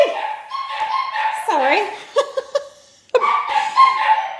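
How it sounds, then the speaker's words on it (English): Two small pet dogs yap and whimper indoors in short bursts close by, interleaved with someone talking and laughing over them. "my little doggies are barking for a moment"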